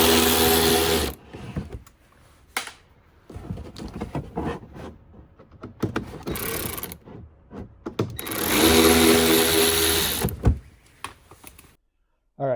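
Screws being backed out of a Lexus LC500 corner marker during a smoked marker install: three loud whirring, ratcheting mechanical bursts, near and close-up, separated by quieter stretches with small handling clicks and scrapes.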